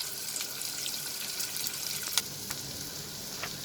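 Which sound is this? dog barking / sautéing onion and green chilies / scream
sautéing onion and green chilies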